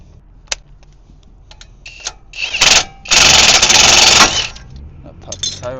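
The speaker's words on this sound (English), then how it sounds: "we're going to use our tie rod buster" A tie rod buster tool works a tie rod loose on a Nissan Altima during a wheel bearing replacement: scattered clicks and short mechanical bursts lead into a loud, sustained buzzing whir lasting about a second, then fade back to small clatters, with a voice nearby.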